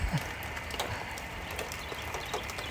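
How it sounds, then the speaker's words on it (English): Big raindrops begin falling outdoors near a rail yard in Chillicothe, pattering irregularly on surfaces as scattered, distinct taps over a steady low background hum, with no one talking. "Just starting to rain again."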